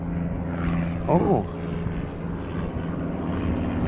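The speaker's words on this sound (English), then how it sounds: "little duo of planes going over." A pair of propeller airplanes passing overhead during outdoor earthbag roundhouse building, a steady distant engine drone running through the clip beneath a brief spoken exclamation and low work noise.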